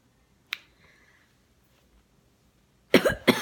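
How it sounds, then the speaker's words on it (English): A single short cough sounds early, followed near the end by a louder burst of two or three quick coughs, close to the microphone in an otherwise quiet room. "Cough, cough."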